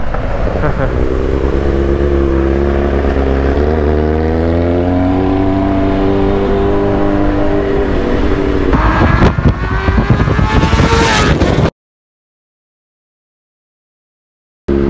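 A Kawasaki Z900 motorcycle engine idles loudly and close, its pitch rising and falling through several revs before a sharp throttle blip, then cuts to silence near the end.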